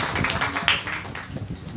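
A small group claps together for a student's top score at a fasting and prayer gathering, with a brisk, close patter of hands filling the short burst and no talk over it.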